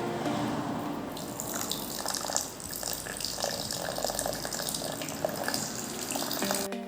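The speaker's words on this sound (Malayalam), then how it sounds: "കൂട്ടത്തിൽ ചിൽഡ് ആയിട്ടുള്ള വാട്ടറും കൂടി ചേർത്ത് കൊടുക്കുകയാണ്" Chilled water gushes steadily into pomegranate juice, a continuous close pouring splash that runs for several seconds without talk.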